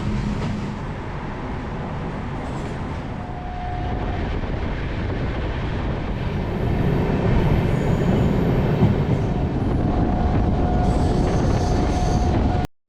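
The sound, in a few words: Indian Railways train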